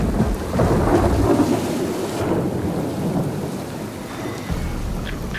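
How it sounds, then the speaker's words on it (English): Tropical thunderstorm outdoors, with a deep rolling rumble of thunder fading over several seconds above steady heavy rain hissing on surfaces, loud and alone. "Through sunshine, through rain, through tropical thunderstorms."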